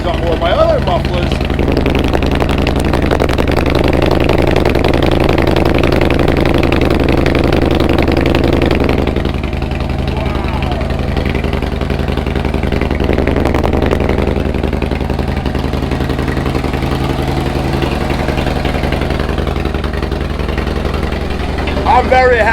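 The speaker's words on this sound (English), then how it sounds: "Definitely louder than my stock exhaust or my other mufflers." A Harley-Davidson Dyna Street Bob FXDB engine with an aftermarket 2-into-1 exhaust idles steadily with a deep, loud exhaust rumble, a voice speaking over it at times.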